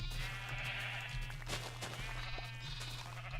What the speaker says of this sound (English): I'll just shear a few more sheep here.